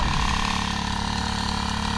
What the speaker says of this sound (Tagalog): Itong pang spray namin na to, yung gasolina